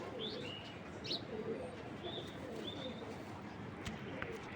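Tagged club pigeons coo softly with faint chirps, quiet and close, with no voices.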